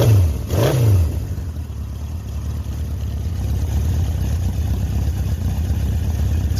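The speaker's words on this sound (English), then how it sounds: "It's got to be one of the best cold starts on an old CB750 I've seen in a long time." A 1976 Honda CB750 motorcycle engine starts from cold with a brief rising whir, then settles into a steady, close, loud idle with a low, even rumble throughout.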